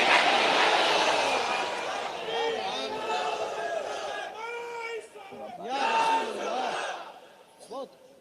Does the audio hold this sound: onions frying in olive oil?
no